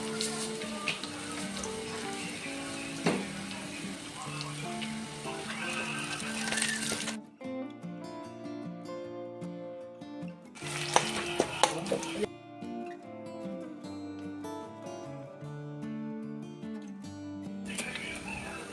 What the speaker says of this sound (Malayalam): ഇനി ഇതിലേക്ക് നമുക്ക് കുറച്ച് കടുകിട്ട് കൊടുത്ത് പൊട്ടിക്കാം